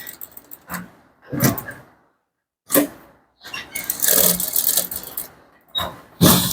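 A sewing machine stitching a male Ankara top runs in several short bursts, start-stop with pauses, close and fairly loud, including a longer run in the middle.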